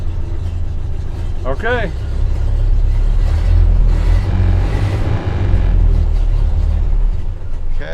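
1929 Ford engine running steadily after a tune-up, a close low rumble with a slightly uneven idle, with people talking over it.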